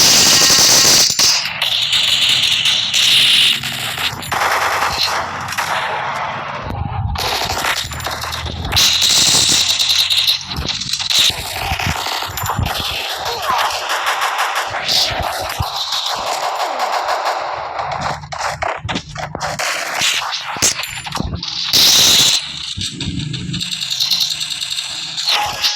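Video game gunfire comes in loud bursts of rapid automatic shots and single cracks, mixed with clinks and other game effects, filling the clip with busy, uneven action.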